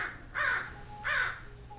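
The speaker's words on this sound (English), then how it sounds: "That's a loud bird." A loud crow caws twice outdoors, two harsh raspy calls about half a second apart, close and clear with no talking.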